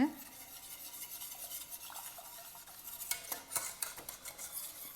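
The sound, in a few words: stirring a mixture in a pot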